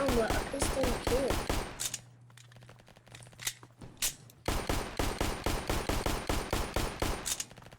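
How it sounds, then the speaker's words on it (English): Pistol shots fired rapidly in the video game Flag Wars, sharp close cracks in quick rhythmic strings, a brief quieter pause midway, then another long run of evenly spaced shots. "This pistol is horrible. I thought you could hold it down, but a pistol you can't."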